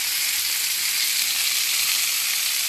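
A chicken roulade fries in butter in a pan with a constant, close, bright sizzle that stays even throughout and has no voices over it.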